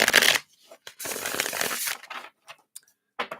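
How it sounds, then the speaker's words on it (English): Playing cards shuffled by hand during a live tarot-style reading, a dense riffling burst followed by a longer ruffle and scattered short flicks, close and fairly loud with no talk. "Let's give these a shuffle."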